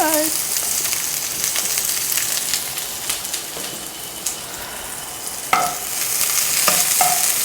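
Food sizzles steadily in a hot pan with onions while a utensil stirs it, scraping and clinking irregularly against the metal. The sound is close and continuous, and a louder knock of the utensil comes near the end. No one speaks.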